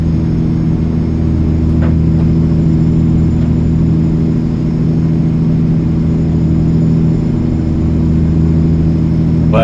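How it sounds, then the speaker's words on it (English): A Peterbilt semi truck in American Truck Simulator drives over rumble strips while hauling 40,000 lbs, giving a steady, loud, low droning rumble with engine hum throughout and no talk. "Got on the rumble strips."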